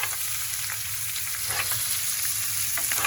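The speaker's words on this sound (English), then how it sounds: "You want to spoon it over the top of the steak." Frothing butter is spooned over a tomahawk steak in a hot pan, giving a steady, close sizzle with small crackles and pops throughout, and no talking.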